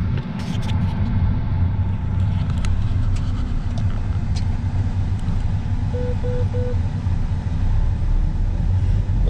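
A John Deere X9 combine harvester engine runs as a steady, loud low rumble throughout, with faint talk over it.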